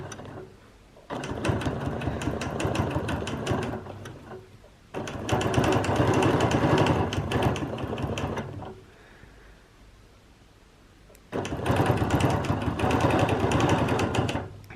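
A sewing machine doing edge-to-edge quilting runs in three long, loud bursts of fast, steady needle chatter, separated by brief quiet pauses, close up and with no voices.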